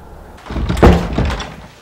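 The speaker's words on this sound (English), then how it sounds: "that's to keep those doors from banging at night" A door bangs once with a heavy, loud thunk, followed by a short rattling resonance that fades out, and no voices.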